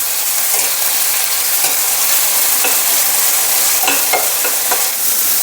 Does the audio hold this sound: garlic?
yes